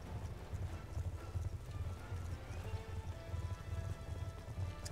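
Horse hooves clip-clopping steadily in the Black Ops 2 video game, a continuous rhythmic trot at moderate volume with no talk over it.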